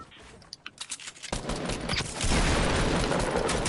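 Pump shotgun blasts in a tournament video game match, sharp booming shots over a dense wash of gunfire and game noise that grows louder and busier partway through.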